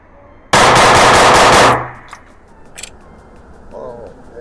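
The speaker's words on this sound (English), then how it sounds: "let's see how fast I can get off these 6 shots" Rapid burst of gunfire from a CZ P10C pistol in .40 caliber, ported, loud and close, the shots fused into one dense roughly one-second string, followed by fading echo and faint outdoor ambience.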